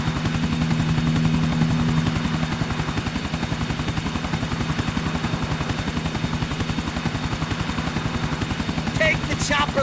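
A helicopter in Grand Theft Auto IV drones steadily with fast, rhythmic rotor chop and a constant engine hum, close and loud throughout, with a faint voice in the cabin.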